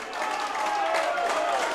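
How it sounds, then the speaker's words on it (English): Football crowd at a Stranraer versus Airdrieonians stadium match, a brief rising roar and cheering from the stands, moderately distant and sustained without a break. "That gets the crowd going."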